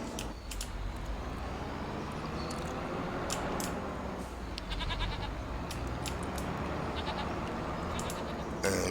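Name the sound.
goats and cows at the barn in Farming Simulator 25 video game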